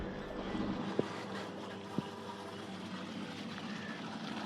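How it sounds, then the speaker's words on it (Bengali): An irrigation water pump machine runs in an open field, giving a steady, even mechanical drone with a couple of small clicks over the constant hum. "আমার মেশিনটা দিচ্ছি অন করে দিলাম"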